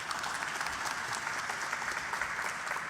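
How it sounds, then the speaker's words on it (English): Soft, distant applause from a crowd at a Philippine government event spreads evenly, a continuous wash of many hands clapping without any voices over it. "You're getting more applause than me."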